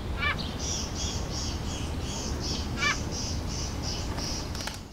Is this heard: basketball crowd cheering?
no